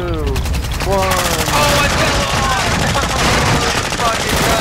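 Rapid machine gun fire in a shooter game, a dense, continuous loud rattle of closely spaced shots lasting throughout, with a voice speaking over it.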